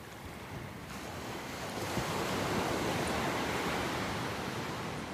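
Ocean surf washes ashore at Hendry's Beach in Santa Barbara, a continuous broad roar of breaking waves that swells slightly louder partway through, mixed with wind buffeting the microphone; nobody speaks.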